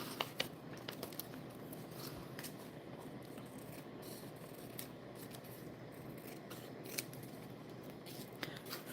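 Scissors snipping in short, uneven clicks and crisp cuts, faint and close in a quiet room, with a low steady background hum and no speech.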